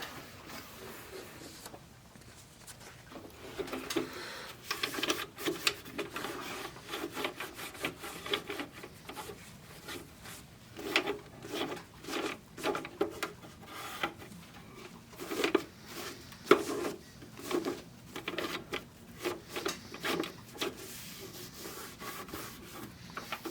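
Cloth rubbing over the cleaned surface of a Technics SH-8017 graphic equalizer, a soft repeated wiping with irregular strokes that stay close and moderately quiet throughout.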